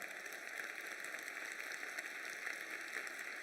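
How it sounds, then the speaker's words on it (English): An audience at a keynote talk during a nut and dried fruit congress claps together, producing a steady, dense wash of applause that stays even throughout, a little distant and without voices. "Could you applaud? Could you clap?"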